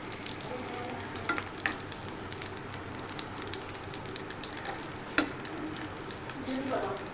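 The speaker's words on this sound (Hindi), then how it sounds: "अब हम इसे स्लो ही फ्लेम पे दूसरे साइड से इसको हम फ्राई करेंगे।" Black chickpea kebabs sizzle steadily as they fry on their second side in a pan over a slow flame, a continuous close crackle with a few brief clinks and stirring sounds.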